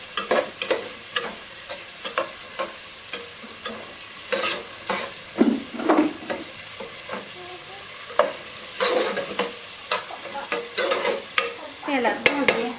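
Spices and chilli frying in a little oil in a home kitchen pan, with a steady close sizzle broken by repeated scraping stirs of a spoon through the pan, and no talking.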